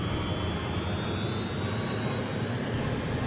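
A Harrier jump jet's engine in jet mode, from the PlayStation game Eagle One: Harrier Attack, gives a constant, loud roar with high whining tones that slowly rise, unbroken and with no voices.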